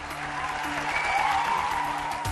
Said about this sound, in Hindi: वहां मौजूद लोगों ने तालियां बजाकर अपनी खुशी का इजहार किया